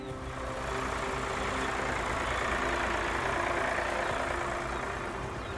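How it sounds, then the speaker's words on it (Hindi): Farm tractor engine running steadily in a field, a continuous low rumble at moderate distance with no voices over it. "क्या आज मैं चला सकती हूँ ट्रैक्टर?"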